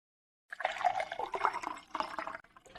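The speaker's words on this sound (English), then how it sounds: "This doesn't make the same sound when the water pitcher is not as full." Water pours from a pitcher close by, a continuous gurgling, splashing stream that starts abruptly after a brief silence and runs until the end with uneven bubbling surges.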